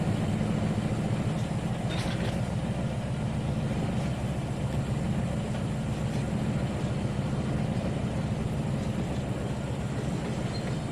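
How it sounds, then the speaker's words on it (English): A small locomotive in the Trainz 2019 game pulls a heavy corn hopper, giving a continuous low engine rumble with steady mechanical noise throughout and no talk. "A lot of weight for a little engine."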